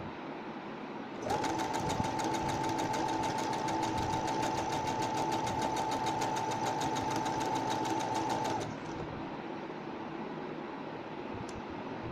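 A sewing machine stitches a folded strip for a designer blouse, whirring steadily and evenly for about seven seconds before stopping, leaving quiet room noise.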